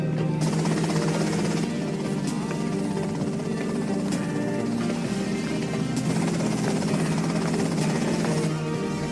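A helicopter in the video game GTA Vice City thrums with a steady, loud rotor chop and engine whine that fills the whole stretch without letup.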